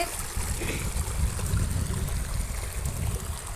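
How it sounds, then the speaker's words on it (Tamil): Spring water pours down a rocky hillside on Perambalur hill, a steady, close, broadband rush that holds without pause and carries no voices. "தண்ணி எப்படி ஊற்றிட்டுருக்கு பாருங்கள் சூப்பராக ஊற்றிட்டு பாருங்கள்"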